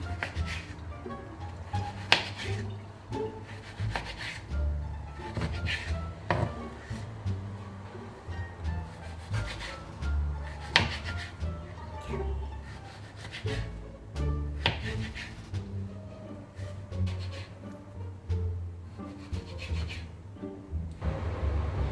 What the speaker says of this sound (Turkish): Dondurulmuş meyvelerimizi yıkadık ve şimdi doğramaya başlıyorum.